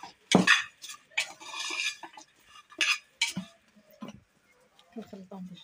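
A spoon clinks and scrapes in a bowl while spices and salt are mixed, with several sharp metallic taps and short stirring scrapes at close range, separated by pauses.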